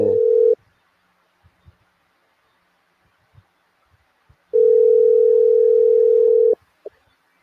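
Steady telephone dial tone on a call that fails to connect, a short burst at the start, then quiet with small clicks, then a longer unbroken two-second tone and a final brief blip.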